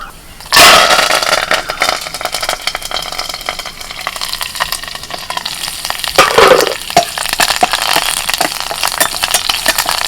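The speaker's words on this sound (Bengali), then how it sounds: "কারি পাতা দেওয়া মাত্রই খুব ফাটতে শুরু করে দেয়" Mustard seeds, urad dal, dried red chilies and curry leaves crackle loudly in hot oil for a coconut chutney tempering, a dense continuous spitting sizzle with a sharp burst at the start and another flare midway.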